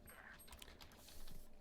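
Loud computer keyboard typing close up, a quick run of clattering keystrokes with no talk over it.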